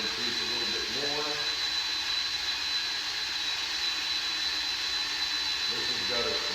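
A Hurricane Wind Power White Lightning vector wind turbine on a static ground run spins with a steady loud whirring whine and a constant high tone, holding at speed with no voices over it.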